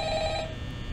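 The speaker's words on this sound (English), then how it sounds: "Let's listen to that phone call." A telephone rings in the LEGO version of the video game Five Nights at Freddy's, a short electronic bell tone that cuts off partway through the clip.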